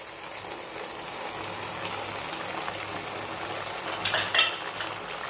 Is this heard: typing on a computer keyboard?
no